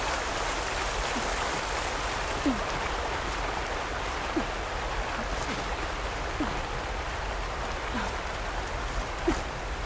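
Steady rushing water from a waterfall in the video game Horizon Forbidden West, a broad continuous wash with faint splashy ticks scattered through it, loud and unbroken from start to finish.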